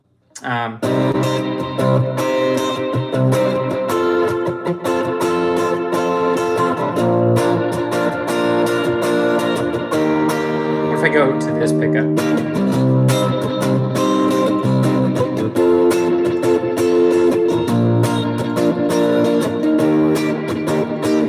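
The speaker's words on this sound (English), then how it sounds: "I'm liking how I have accidentally too much reverb." Electric guitar plays sustained chords drenched in heavy reverb, the notes washing into one another in a loud, continuous wash of sound.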